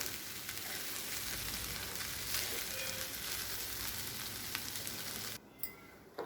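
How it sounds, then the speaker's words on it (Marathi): Onion and masala sautéing gently in a pan over a low gas flame for a homestyle thali, giving a steady, dense sizzle and frying hiss that runs unbroken for several seconds, then drops suddenly quieter near the end. "आता हे थोडंसं परतून घेऊ आता हे गॅसच्याच कमी ठेवायची परतवताना हलक्या हाताने परतवायचं"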